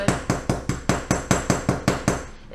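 A hammer strikes a stamped metal pendant on a block to give it a hammered texture, about ten sharp, evenly spaced blows in a steady rhythm, loud and close, each with a short ringing decay.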